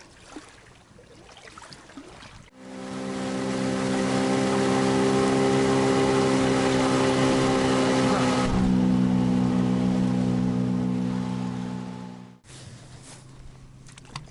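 An outboard motor on a boat on the Dniester river starts up and runs loud and steady for about ten seconds with a strong harmonic drone, then cuts off, leaving quiet water ambience.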